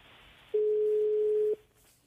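A single steady telephone ringback tone sounds for about one second while a call is placed, clear and electronic over a faint line hiss, with no voices.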